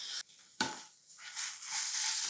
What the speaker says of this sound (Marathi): फक्त एकसारखं मिसळून घ्या आणि तव्यामध्ये परतत राहा